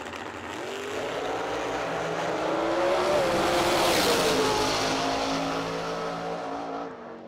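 Drag racing cars at the Yellow Bullet Nationals roar down the track in a sustained, loud engine drone that swells and then fades slightly as they pass, with no talk.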